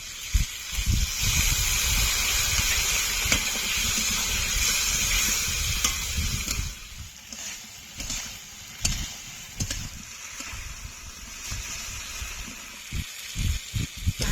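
Cumin, dry chili and spice paste frying in a pan for a soyabean and potato curry, a steady close sizzle and hiss with intermittent stirring scrapes and clatters, fading toward quieter bubbling.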